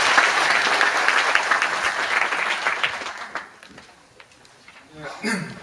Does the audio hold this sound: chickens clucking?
no